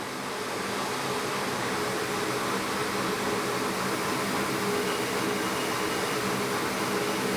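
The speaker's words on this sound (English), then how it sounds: "Now I'm running the vacuum here just because" Shop vacuum running steadily in a workshop used for shear brazing, a constant broadband whooshing drone at moderate level throughout, with no talk.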